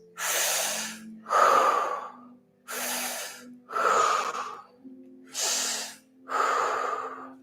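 Deep, slow breathing during a stretching exercise, six alternating audible inhales and exhales, close and clear, each breath lasting about a second.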